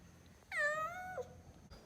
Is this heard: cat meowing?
yes